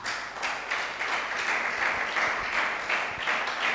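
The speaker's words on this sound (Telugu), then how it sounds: "గట్టిగా చప్పట్లు కొట్టాలా?" An audience applauds steadily in a church service, a dense wash of clapping that holds at an even level throughout.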